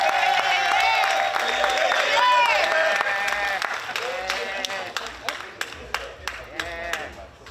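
An audience at a 20th-anniversary talk-show gala breaks into applause mixed with cheers and raised voices, the clapping thinning into sharper, scattered claps toward the end.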